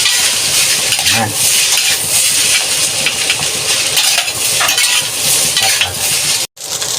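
Chaotay silog ingredients stirred and fried in a pan, with a constant loud sizzle and scraping, clinking utensil strokes; a short spoken word is heard near the end.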